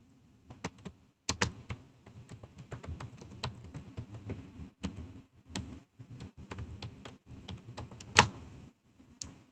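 Keyboard typing as a command is entered in a computer terminal, with sharp, uneven key clicks in quick bursts and short pauses, close up and fairly quiet in an otherwise still room.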